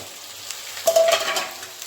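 A spoon stirs tomatoes, green chili and curry leaves in a pan, a short burst of scraping and sizzling after a quiet start, then fading to a soft simmer.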